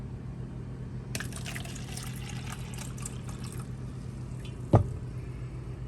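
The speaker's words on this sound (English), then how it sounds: "we're gonna get put some water in a bowl so we can try the microwave" Water is poured into a bowl for a microwave test: a soft trickling pour of a few seconds over a low steady hum, ending with a brief clunk.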